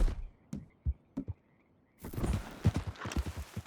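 Horse hooves clip-clop on the ground in Red Dead Redemption 2, sparse separate hoofbeats at first, then a denser louder run of steps with rustling over a quiet outdoor background.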